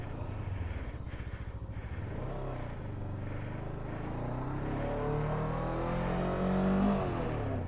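A Kove 500 adventure motorcycle stuck in sand revs its engine steadily, a close, loud drone that rises as the clutch is released, with no talking.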